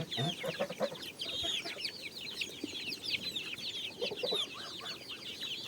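Crested hens peck at zucchini and crushed grain, with soft overlapping clucks and murmurs coming steadily from nearby at low volume.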